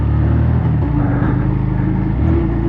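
A vehicle engine labors loudly up a steep hill after a downshift on an unpaved trail, a steady low rumble with shifting tones as it strains and loses power, close and continuous with no talk.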